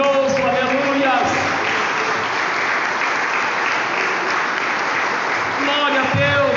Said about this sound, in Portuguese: Aplaude ao Senhor, porque Ele é maravilhoso.